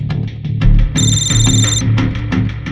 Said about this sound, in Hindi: मॉर्ग से फोन था